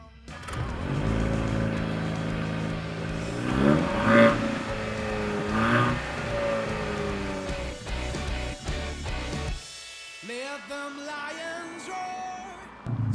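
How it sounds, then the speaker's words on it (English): A Jaguar F-Type with a 4-cylinder turbo engine revs hard through its exhaust, rising and falling through several loud pulls nearby, then dropping off before a brief second rev. "Now, traditionally, 4-cylinder turbos have never sounded that great."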